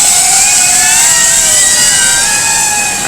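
A Speedybee Bee35 analog FPV drone's motors whine loudly and close up as it descends to land, a high, steady buzzing drone with shifting pitch that eases slightly at the end.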